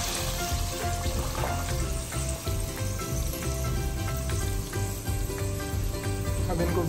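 Chickpeas frying in ginger-garlic paste in a pan, a dense, steady sizzle and crackle that runs without a break at moderate loudness.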